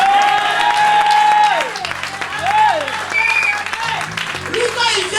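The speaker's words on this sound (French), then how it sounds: "Acclame le Seigneur." A church congregation claps and cheers loudly in a dense, steady burst of applause, with a voice calling out over the crowd.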